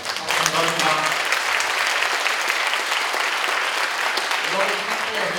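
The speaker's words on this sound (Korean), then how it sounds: "이제 큰 박수로 마무리하려고 합니다" Dense audience applause at a university lecture by the Daegu mayor, steady and full for several seconds with a faint voice early on.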